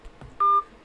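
A single telephone dialing tone sounds clearly for a fraction of a second, a steady electronic beep preceded by faint soft noises, with no talk.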